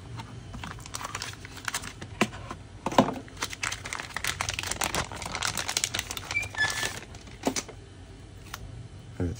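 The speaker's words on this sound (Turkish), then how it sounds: "Şimdi ekranımızı ayıralım köşeye ve yeni ekranımızı açalım" A new original-service replacement screen for a Samsung Galaxy S21 is unwrapped, with quiet crinkling and crackling of plastic packaging and a few sharp ticks and clicks, close by and without talk.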